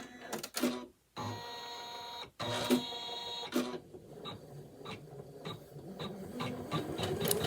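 A Janome Memory Craft 500e embroidery machine stitches with a fast, rhythmic mechanical whir and ticking, stopping briefly twice before running on steadily, close by and without talk.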